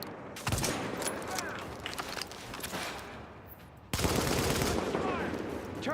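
Rapid bursts of automatic gunfire and heavy shooting in the video game The Division, dense and loud throughout with a sharp surge near the end, a voice occasionally heard under the firing.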